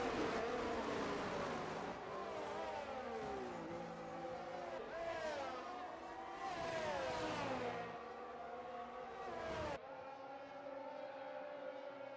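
Formula-style racing cars, including a Mercedes and an Alfa Romeo, scream past in a United States Grand Prix racing video game, engines rising and falling in pitch as they pass close and loud, continuous throughout.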